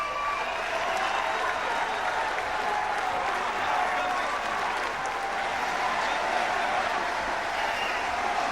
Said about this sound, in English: The crowd on their feet here in Huddersfield.